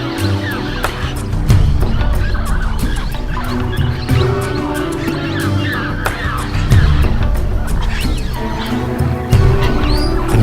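Blue-headed parrots and other birds arriving at dawn in the Peruvian jungle: a busy, loud chorus of squawks and chirps with sharp calls and rustling over a dense ambient bed, continuous throughout.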